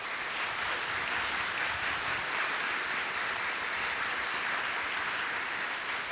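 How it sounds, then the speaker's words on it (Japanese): A large audience at the Yakuza 8 announcement event applauds the cast in a steady, dense wash of clapping that holds at an even level throughout, with no voices on top. "皆様盛大な拍手をお送りください"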